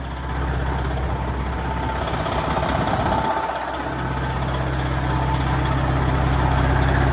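Straight-piped Freightliner Coronado truck idling close by, a steady deep rumbling drone with a heavy low-end throb that holds constant and swells slightly toward the end, with no talk over it.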